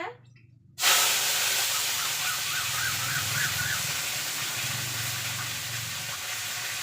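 Mustard seeds and curry leaves hit hot oil in a vada pan with a sudden loud hiss that settles into steady sputtering and crackling, near and unbroken.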